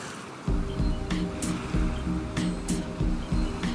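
Ocean swell washing onto a sandy nesting beach, a steady roar of surf with a few breaking surges rising above the continuous wash, moderately close and with no voices.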